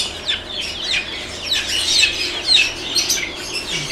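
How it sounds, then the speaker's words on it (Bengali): Chickens at a bird market in Saudi Arabia give short clucks, mixed with steady chirping and tweeting from many other caged birds nearby. The sound is busy and continuous for the whole stretch. "আর এই হলো মুরগি"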